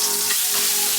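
A wagyu steak sears loudly in a hot pan just after being flipped, a brief, close, dense sizzle with no voices.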